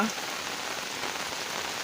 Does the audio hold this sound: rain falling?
yes